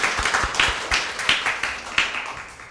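A church congregation at Sunday worship gives a short round of applause, a small group clapping unevenly at close range with distinct separate claps fading out over a few seconds.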